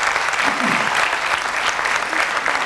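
Loud, dense applause from an audience at a mushaira poetry gathering, a continuous close wash of many hands clapping with faint voices underneath.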